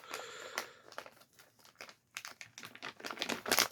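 Plastic packaging crinkling and crackling as it is carefully cut open while unboxing B&T and Accu-Shot gear, with irregular close crisp rustles and short gaps, alone and with no talk.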